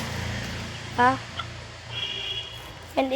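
A few short, close chicken calls in quick bursts over low background rumble, with a thin higher squawk in between.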